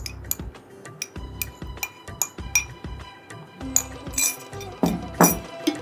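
A spoon stirs Onam payasam in a metal vessel, sending out a steady run of bright clinks and taps against the sides, quickening and louder toward the end.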